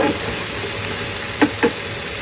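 Spices and a paste of ground bottle gourd peel fry in oil in a home kitchen pan: a steady, close sizzle, with two brief scraping stirs near the end.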